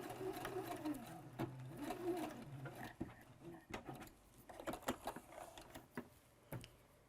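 A sewing machine stitches fabric for a make-up remover micro-mitt, running in short close bursts and then reversing for a few stitches to tie off the threads, with pauses and handling clicks between the runs.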